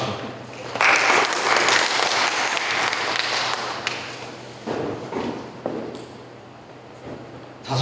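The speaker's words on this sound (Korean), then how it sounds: "박수." Audience applause fills a lecture hall, dense clapping rising loudly and then tapering off over several seconds, with voices mixed in.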